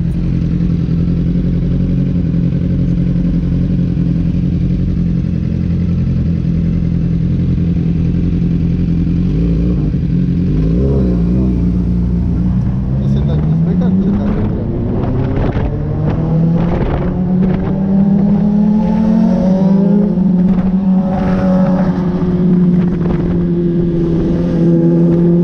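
A large motorcycle engine on a city delivery ride, droning loudly under wind rush, then its pitch dipping and climbing through several rising revs as the rider accelerates, close and continuous with no voices.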